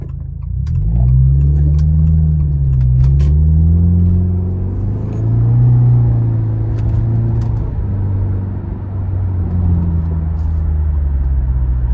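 Car on a stock exhaust driving along a residential street, a steady low engine rumble that swells and eases as it revs, close and continuous with no talking.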